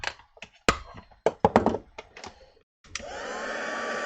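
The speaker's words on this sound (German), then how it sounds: "Okay, jetzt wird ganz kurz geföhnt." A heat embossing tool, a dryer-like blower, starts up and blows steadily on embossing powder on a card after a series of taps and handling clicks, a loud close-up whir that holds to the end.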